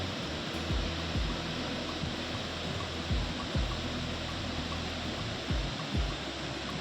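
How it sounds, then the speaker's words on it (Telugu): Kuntala waterfall pours in a dense, steady roar, loud and unbroken, with occasional low thumps beneath the rushing water and no voices. "so finally this is the Kuntala water falls"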